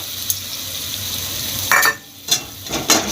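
Cashew paste going into a mushroom curry frying in a pan, giving a steady low sizzle broken by a few louder bursts of hiss and stirring scrapes toward the end.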